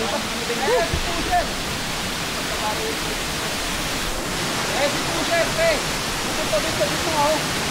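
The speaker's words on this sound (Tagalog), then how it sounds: "ito yung pangatlong falls sa Lacsan Falls" A steady, loud roar of water pours down the third falls of Alaxan Falls, part of the Alaxan Seven Falls, as continuous broadband rushing with faint voices now and then.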